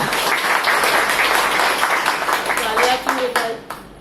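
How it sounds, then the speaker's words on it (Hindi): An audience in a women's health session organised for anganwadi workers claps loudly, a dense burst of many hands that fades toward the end, with crowd murmur mixed in. "जोरदार तालियां खुद के लिए बजाइए"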